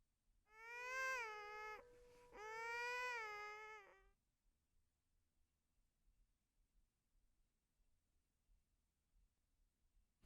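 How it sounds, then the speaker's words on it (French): Baby crying, hidden under a pile of pillows in a large nursery full of cushions and stuffed toys: two clear, wailing cries in a row, followed by a long stretch of silence. "Entends le bébé pleurer caché sous une pile d'oreillers."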